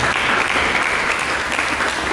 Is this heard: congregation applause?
yes